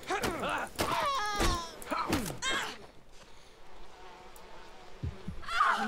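A swarm of bees drones in the video game We Happy Few, a faint, steady buzzing that rises after a man's loud, emotional voice and groans in the first half.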